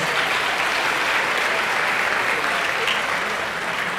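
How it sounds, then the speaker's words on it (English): A large banquet audience gives sustained, dense applause for a graduating senior class at a school senior banquet, a continuous wash of clapping at even loudness from start to end. "Let's give them a round of applause."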